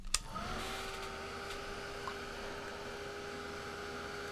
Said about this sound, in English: It's one of the benefits to using this heated tool is that it will dry my paint real quick